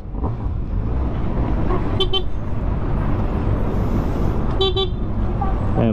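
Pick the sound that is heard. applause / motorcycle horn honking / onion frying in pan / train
motorcycle horn honking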